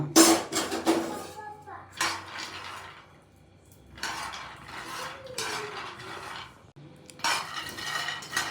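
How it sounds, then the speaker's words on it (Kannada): Peanuts roasting and being stirred in a metal pan for peanut chikki, with bursts of scraping and clattering against the pan between quieter pauses, close up, while someone speaks. "ಶೇಂಗಾ ಬೀಜವನ್ನು ಚೆನ್ನಾಗಿ ಹುರ್ಕೊಳ್ಳಿ"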